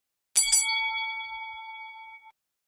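A single bright bell ding rings once as a sound effect and its clear metallic tone fades over about two seconds into silence.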